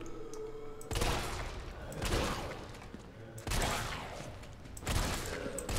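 Gunfire in the Resident Evil 3 video game: loud bursts of rapid shots ring out in several clusters, each followed by a decaying echo, with no talking.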